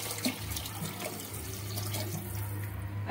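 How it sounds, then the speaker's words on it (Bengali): Water splashes into a pot of fried rice and lentils for khichuri, a continuous close pour with gurgling and splashing, with no voices. "এবার এখানে আমি জল দিয়ে দেব।"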